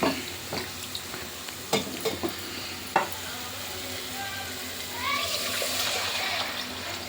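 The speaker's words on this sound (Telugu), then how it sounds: "ఇప్పుడు చింతపులుసు పోసుకోవాలి." Tamarind water poured into frying fish curry in a pan, a steady pouring hiss and sizzle building near the end, after a few sharp stirring clinks and scrapes against the pot.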